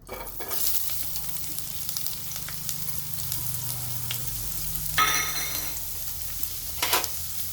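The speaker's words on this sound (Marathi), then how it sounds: "आता आपण कढईमध्ये तेल टाकलेलं आहे थोडं। त्याच्यात आपण कांदा टाकून घेऊ।" Onion frying in a little oil in a kadhai for dhaba-style dum aloo, a steady close sizzle with stirring scrapes and bursts of louder crackle around the middle and end, no talk.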